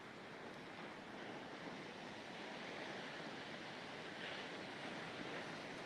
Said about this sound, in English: could watch the waves for hours